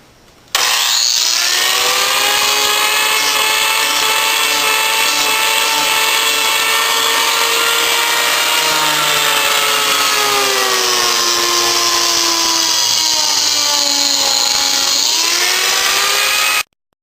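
A custom-built power carving tool that mimics a gouge cuts into wood, giving a steady, loud whining drone with shifting pitch for about fifteen seconds before stopping abruptly.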